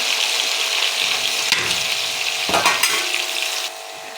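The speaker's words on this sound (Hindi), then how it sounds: "एक पैन में मैंने ऑयल गरम कर लिया है। अब मैं 2 प्याज इसमें ऐड कर दूंगी" Two onions fry in hot oil in a pan, giving a loud, steady sizzle throughout, with a couple of brief scraping stirs partway through.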